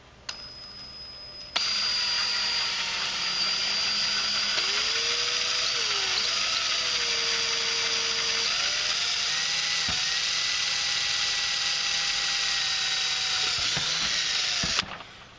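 A power drill with a 3/16 bit bores a pilot hole through plastic while a 75mm throttle body is fitted to a Dodge, Jeep or Chrysler 4.7 engine. It starts with a click, then a loud, close, steady whine that shifts pitch as the bit cuts and stops abruptly.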